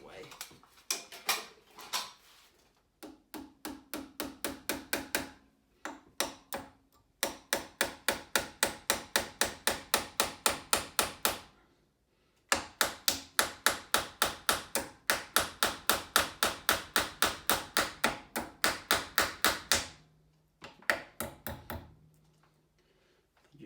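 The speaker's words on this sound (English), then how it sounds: "let's go with a small, nice little hammer here" A small hammer taps the rail of a kitchen stool in rapid, evenly spaced bursts of sharp close knocks, broken by short pauses, with some talk mixed in.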